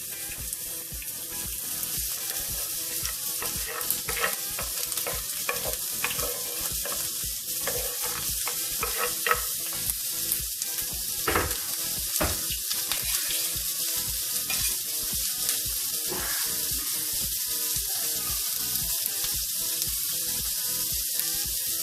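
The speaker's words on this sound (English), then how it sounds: "And I'm gonna add my vegetables to it. And saute them." Vegetables sauté in a hot pan with a steady, close, bright sizzle that runs without a break, broken by occasional stirring clatter, and no voices.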